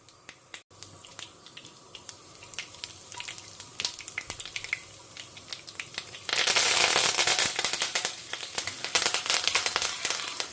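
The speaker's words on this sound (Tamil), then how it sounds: "நல்லெண்ணெயை எடுத்துன்னு இருக்கேன் வானொலியில். அதுக்கு கடுகு, ஜீரகம், வெந்தயத்தை பொரிச்சுண்டுடலாம்." Mustard seeds, cumin and fenugreek sputter in hot sesame oil with dense crackling pops that grow louder and more intense midway, a continuous close sizzle with no talking.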